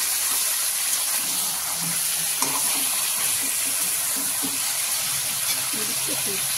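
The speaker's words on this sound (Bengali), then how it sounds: "মাংসটা দেখো ভাজা হয়ে গেছে" Large chicken pieces frying in a pan for a spicy red chicken kosha with potato and capsicum, giving a steady close sizzle with faint stirring scrapes throughout, and no speech over it.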